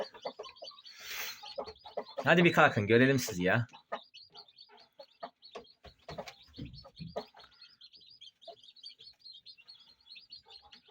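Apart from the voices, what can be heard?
chickens and chicks clucking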